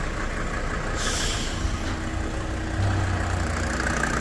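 A 2004 SsangYong Musso Sports diesel with about 125,000 km, just started on an external battery, idles steadily with a low rumbling drone that swells slightly near the end.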